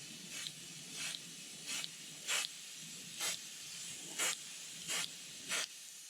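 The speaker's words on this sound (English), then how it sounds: "we're going to stay way back and we're going to spritz this" An airbrush sprays light brown paint onto a crankbait lure in eight short, evenly spaced hissing bursts, quiet and close, with no talking.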